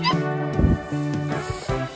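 Abandoned puppy yelping and whimpering up close, several short high-pitched cries in quick succession with brief pauses between them.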